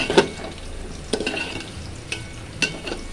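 Rice and lentils being fried with spices in a pan for a home offering, a soft frying hiss with a few distinct scraping stir strokes spaced through it, close and fairly quiet, no talking.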